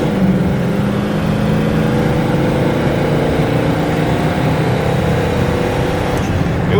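A classic car launches from a stop at full throttle and bogs off the line, its engine droning loud and steady from inside the cabin with broad road and wind noise underneath.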